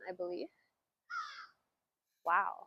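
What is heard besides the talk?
crows cawing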